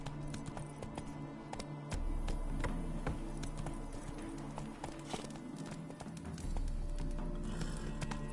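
Roach, a horse in The Witcher 3, gallops with steady rapid hoofbeats on a road, fairly close and clear, with a low rumble surging twice beneath the clip-clop rhythm.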